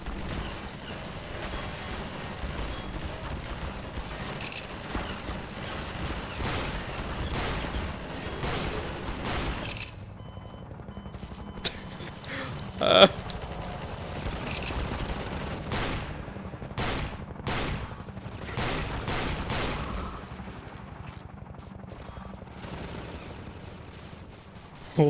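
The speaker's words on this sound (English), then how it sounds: "They're shooting me." Gunfire in the video game Garry's Mod: dense, continuous shooting with bursts and scattered sharp shots over a busy mix for most of the stretch, a few louder isolated cracks near the middle.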